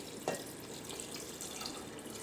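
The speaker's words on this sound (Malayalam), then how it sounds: "കടല വേവാൻ ആവശ്യത്തിന് വെള്ളം ചേർക്കാം." Water pours over chickpeas in a pressure cooker for Kerala kadala curry, a faint, steady running-water wash with one small splash at the start; no talking.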